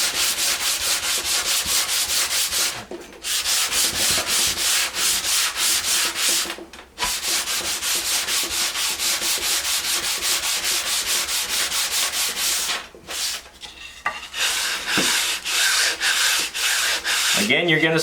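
A wooden board is hand-sanded with 150-grit sandpaper in steady back-and-forth strokes, a loud, close scratchy rubbing. The strokes keep an even rhythm, broken by a few brief pauses.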